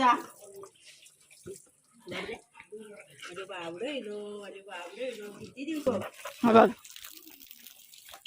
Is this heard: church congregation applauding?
no